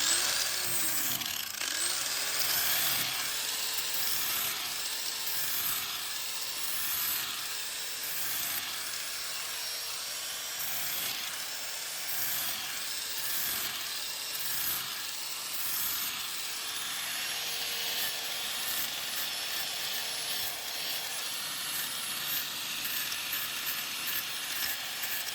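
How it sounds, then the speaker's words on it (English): An angle grinder fitted with a flap disc smooths the corner of a wooden bed frame. It gives a continuous, loud, high whine with a steady roar of abrasion that holds, with small shifts, for about twenty-five seconds, and no one speaks. "I don't want to go slow because the flap disc will follow the ups and downs"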